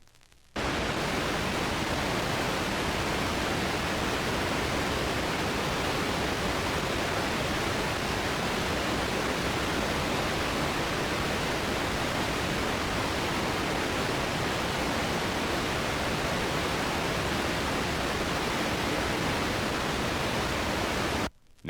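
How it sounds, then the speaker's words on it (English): Steady full-range pink noise test signal from a Soundcraftsman equalization test record, left channel only, a constant, even hiss that runs unbroken for about twenty seconds with no other sounds. "Here is 20 seconds of all frequency pink noise,"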